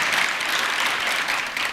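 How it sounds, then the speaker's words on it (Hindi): Audience clapping during a Hindi sermon by a Jain acharya, a short, loud, dense burst of many hands applauding together without pause. "सही है तो ढंग से ताली बजा।"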